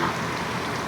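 Steady rain pours after a stormy downpour outdoors, a dense, even hiss of drops on surfaces filling the whole moment without pauses.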